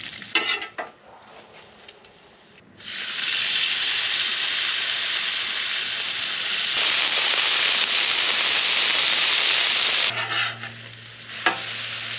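Bacon and small chunks of wild hog pork tenderloin sizzle loudly on a grill, a steady close hiss after a quieter start that fades near the end.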